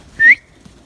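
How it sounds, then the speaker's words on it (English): A single short, sharp whistle from a person at an indoor holiday party, rising briefly and loud, alone for under half a second. "that was a good whistle."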